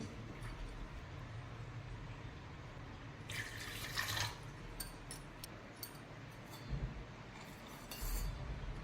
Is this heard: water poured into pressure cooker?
yes